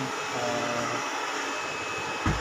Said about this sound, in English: So this one is how to vacuum the carpet.